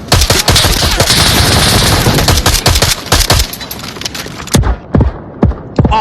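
Video game Glock pistol gunfire at a shooting range: dense, loud bursts of rapid overlapping shots from several shooters at once, thinning to scattered single cracks toward the end.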